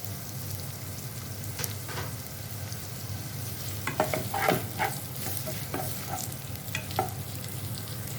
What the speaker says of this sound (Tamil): ஒரு 2 மீடியம் சைஸ் வெங்காயம், கூடவே கருவேப்பிலையும் போட்டேன். நல்லா வதக்கிக்கோங்க.